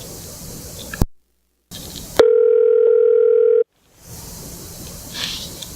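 A phone line cuts out as service drops: a crackle and brief silence, then a steady, clean dial-type tone holds for over a second before the line goes dead and faint noise returns.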